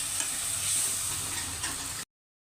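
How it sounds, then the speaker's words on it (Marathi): Masala spices are stirred into chopped vegetables for khenangat bhaji, a soft continuous scraping and faint sizzle up close in a home kitchen, ending in sudden silence. "हे मसाला मिक्स करून घ्यायचा"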